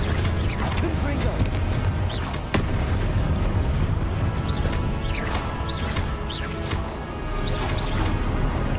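A Confringo blasting spell bursts in Hogwarts Legacy as a single sharp crash that cuts briefly through dense, continuous game noise and music, fading back into the busy mix.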